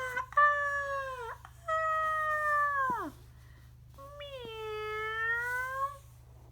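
A cartoon cat gives three long, drawn-out meows and yowls that rise and then bend downward, loud and close, with brief gaps between them and a single short vocal exclamation from a character.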